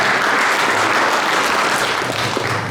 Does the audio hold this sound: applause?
yes